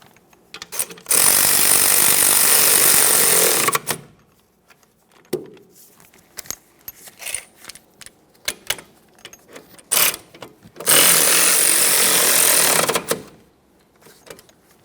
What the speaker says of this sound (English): Now we'll torque these to 43 foot-pounds.